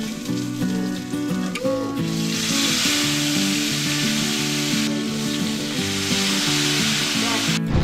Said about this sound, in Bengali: এই দেখো আমার মাছটা ভাজা অলমোস্ট ডান